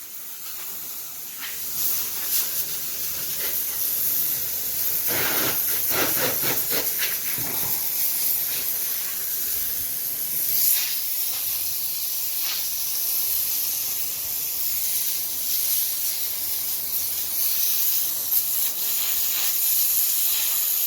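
Water spray rinses off a surface during yard work, a continuous close hiss holding steady and fairly loud throughout with slight shifts in texture and no talk.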